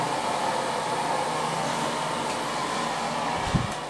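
Steady, loud hair dryer blowing continuously on curly hair at a salon styling session, a constant close whoosh with no talking.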